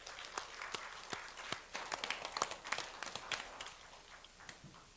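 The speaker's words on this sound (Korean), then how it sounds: "전도사님께 다시 한번 큰 박수 부탁드립니다" A church congregation claps during a Sunday service, a faint spread of scattered hand claps that builds briefly and then thins out to quiet.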